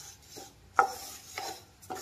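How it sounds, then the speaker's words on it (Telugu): Wheat semolina (rava) slowly roasting in a pan while a spatula stirs it, giving soft scraping strokes in short, separate bursts with no voices. "నిదానంగా వేయించుకోవాలండి రవ్వని"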